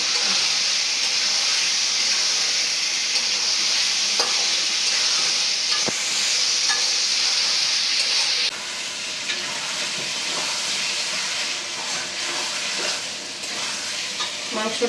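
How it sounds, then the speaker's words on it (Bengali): Potatoes and meat fried earlier are stirred into a spice paste in a village kitchen pan, giving a loud, steady broadband sizzle with occasional stirring scrapes throughout, no talking. "এখন দিয়ে দিব ভেজে রাখা আলু আর মাংস। আলুটা আবার মশলার সাথে আমি কষাই নিব।"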